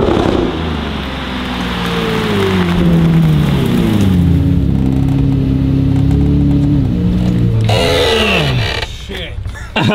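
Water spraying onto the exposed engine of a Lamborghini Murcielago: a loud, continuous hiss of spray that runs most of the way and cuts off near the end, with people talking over it.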